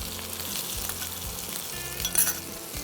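Potatoes tossed into hot oil with ginger paste, giving a brief busy sizzle with a few clatters and a sharper burst near the end, close and without speech.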